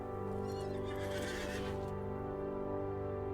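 A horse in the game Lord of the Rings Online gives a loud whinny over a steady hum of background game music, with light hoof clops, no talking.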